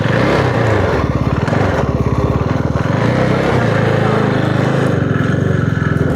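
Close motorcycle engine running steadily during a ride on a hill road, a continuous rough low drone with slight throttle changes throughout, no talk over it.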